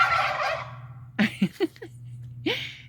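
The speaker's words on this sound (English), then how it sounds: "The turkeys. It's a little late for them to be out." Several wild turkeys gobble, a long one at first and then quick rattling bursts, over a steady low hum in a quiet, cold, foggy outdoor setting.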